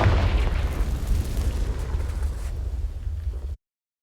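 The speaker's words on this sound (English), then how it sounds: "Repulsor! Bombarder! Confringo!" Confringo spell explosion in the video game Hogwarts Legacy: one heavy, rumbling blast that roars and decays over several seconds before cutting off abruptly, with no voices.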